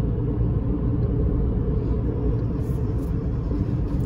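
A Tata Punch car drives in city mode in fourth gear at around 2,000 rpm, its low engine and road rumble steady and loud inside the cabin throughout.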